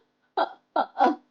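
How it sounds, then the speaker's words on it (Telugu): Three sharp vocal hiccups are heard close up during an indoor interview with a veteran female singer. Each is a short, loud burst with silence between them. "ఎక్కిళ్ళంతా ఎక్కిళ్ళు"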